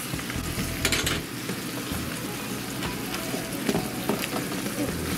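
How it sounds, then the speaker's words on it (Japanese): Soboro, seasoned minced meat with water, sake and sugar added, stir-fries in a pan with a dense, close sizzle and bubbling crackle, punctuated by a few louder stirring knocks. "さらに炒めます"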